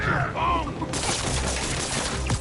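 Rapid bursts of gunfire in a Spider-Man video game, a dense volley that starts suddenly after early voices and keeps crackling loudly to the end, with talk mixed in.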